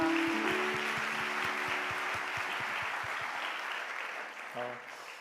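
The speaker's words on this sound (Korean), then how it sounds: "우리 그렇게 하실 하나님께 감사의 박수 드립시다" Congregation clapping in a university church during Sunday morning worship, a dense sustained round of applause with a tonal musical chord ringing beneath it at first, gradually fading toward the end.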